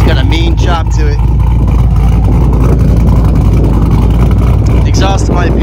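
A project car engine with a big, high-overlap cam idles and revs through a loud Borla exhaust, a choppy surging rumble that stays steady throughout while someone talks over it.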